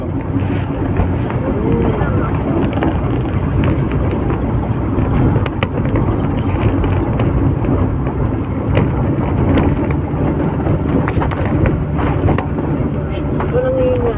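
Heavy rain pours steadily at night in slow traffic, a dense constant hiss with traffic rumbling beneath, while voices talk intermittently over it.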